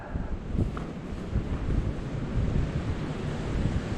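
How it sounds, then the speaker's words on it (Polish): Strong wind buffeting the microphone on a mountain trail on Kłodzka Góra, a continuous loud roar with gusty low rumbling and no talking. "Posłuchajcie trochę tego wiatru"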